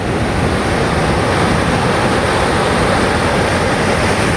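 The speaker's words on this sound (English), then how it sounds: "I've just arrived on the beach" Steady broadband wash of surf at Praia de Palmas, Governador Celso Ramos, Brazil, continuous and loud, mixed with wind across the microphone and no voices.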